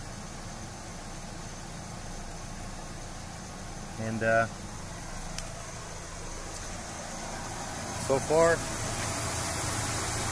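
A car engine idles steadily after an oil friction treatment, a constant low hum with a brief spoken phrase and a couple of small clicks over it.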